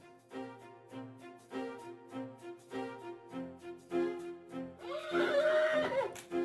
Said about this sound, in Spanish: Lo veo muy alterado al caballo, alterado, haciendo cosas muy raras.